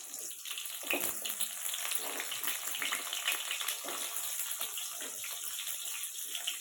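Small shallots fry in hot oil for a Tamil fish curry, giving a continuous bright, watery hiss that stays fairly even and moderately quiet throughout, with scattered faint crackles and no speech.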